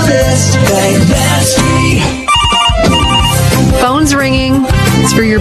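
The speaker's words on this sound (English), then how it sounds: "Phone's ringing." A telephone rings within a loud radio advert, the ring mixed with music and a voice talking over it.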